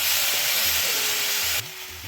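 Cooked ridge gourd sizzling in a hot pan, a steady close hiss of frying that runs on without pause, with a faint tonal hum underneath and a slight drop in level near the end.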